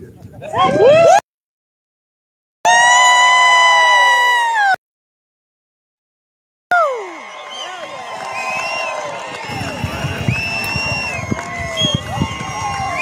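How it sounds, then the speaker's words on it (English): An outdoor crowd waiting for a plane to land cheers and whoops on request, loud and close, broken by silent gaps, then gives way to a busy mix of scattered shouts and crowd noise. "can we get everybody to cheer again"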